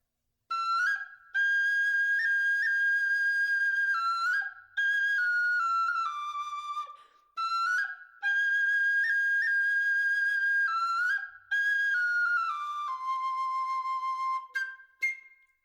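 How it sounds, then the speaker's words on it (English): Clear, loud whistling in a song-like pattern, several sustained phrases separated by brief gaps, ending in a fluttering trill; it sounds like a human whistler rather than a real bird. "he ended with a great crescendoing trill of a whistle"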